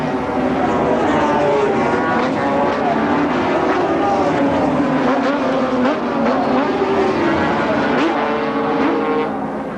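750cc Kawasaki and Yamaha racing motorcycles at Brands Hatch in 1977, their loud, continuous engine whine rising and falling in pitch as they pass, with a commentator talking over it.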